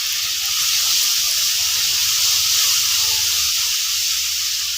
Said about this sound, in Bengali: এখন হালকা একটু জল দিব, দিয়ে আরও ভালোভাবে মশলাটাকে কষাবো।